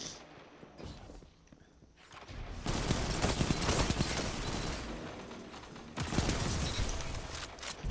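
Auto rifle gunfire in the Destiny 2 video game, with dense bursts of shots from about three seconds on, easing briefly and returning louder near the end.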